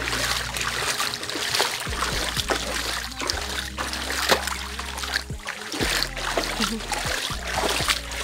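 Floodwater running across a road in a rural upland area, a steady rushing wash with trickling and splashing textures that stays fairly even throughout, with no voices.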